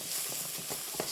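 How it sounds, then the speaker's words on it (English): Soft, steady hiss of steak sizzling in a pan, faint and continuous over a brief moment with slight crackle. "Steak's cooking away nicely."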